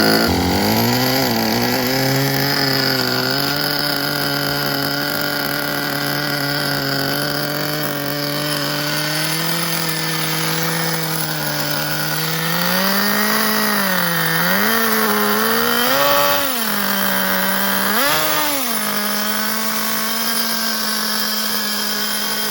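A 1985 Kyosho Integra Vanning 4WD RC car's nitro engine runs loud and close with a high, buzzing whine, holding steady and then revving up and down in several swells as the throttle is blipped.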